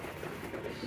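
A pet pigeon coos softly and briefly nearby, a faint, low, burbling call.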